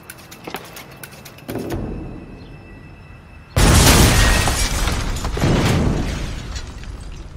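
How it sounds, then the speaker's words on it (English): A sudden loud blast erupts inside a house, followed by a long roaring, crackling rumble that slowly fades, preceded by quieter clattering. "An explosion went off inside the house."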